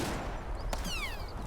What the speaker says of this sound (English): just like a random rifle shot